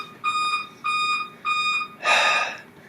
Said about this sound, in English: Hopefully that beeping won't be that loud in the video